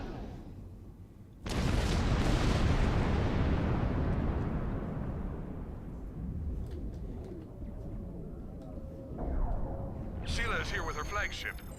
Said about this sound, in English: Set up an explosion.